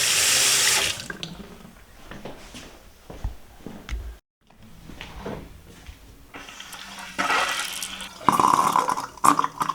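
Water gushes and splashes from newly installed sink taps during a house renovation, starting strong, cutting off briefly, then running again in uneven bursts close to the microphone.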